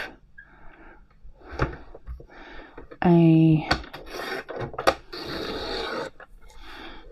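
A blade slices through paper while trimming an uneven edge, giving soft rasping strokes with a short squeaky tone partway through, close and fairly quiet.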